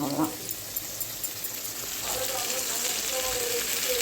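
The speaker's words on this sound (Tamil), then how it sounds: "கடைசியாக கருவேப்பிலை நல்லா கழுவி வச்சுட்டு அதில் போட்டு வதக்கிக்குங்க" Curry leaves sauté in a pan with onion and tomato, a steady hissing sizzle that grows a little fuller partway through, with a few faint clicks in the background.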